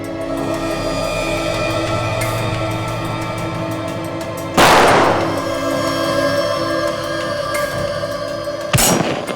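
Security footage is replayed with two sharp, loud gunshots a few seconds apart, cutting through a steady background hum.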